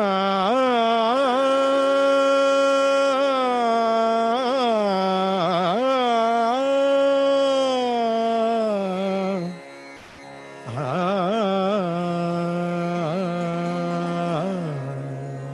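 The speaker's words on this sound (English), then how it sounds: "That is a movement in rag Hindol." Sustained melodic line improvised in raga Hindol, a single voice or instrument gliding between held notes and ornamented turns, loud and close, with a brief pause near the end before the phrase resumes.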